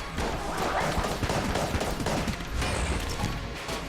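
Rapid gunfire bursts from the video game Enter the Gungeon, dense and loud, with mechanical clicks of a fast reload mixed into the shooting.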